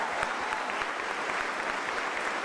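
An indoor audience at a NASA event applauds steadily, a dense wash of many hands clapping at fairly close range for the whole stretch, with no voices standing out.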